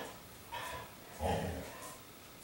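A dog in a home kitchen lets out a couple of soft, short whimpering yips, faint and close, with no talking over them.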